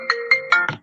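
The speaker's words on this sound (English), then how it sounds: "my phone is ringing on my computer" Four quick electronic ringtone tones from a phone, played through a computer, rising in a bright repeating melody with no talk.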